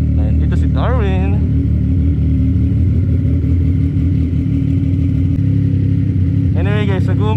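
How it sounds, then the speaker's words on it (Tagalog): A loud, constant motorcycle engine and exhaust drone during a ride, low and rumbling throughout, with someone speaking briefly at the start and end. "nag-uumpisa na akong marindi dito sa tambutso natin na to"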